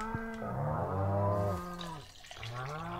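Cows mooing in the Stardew Valley farming game while being milked in the morning, several long drawn-out moos one after another, loud and close with no talking.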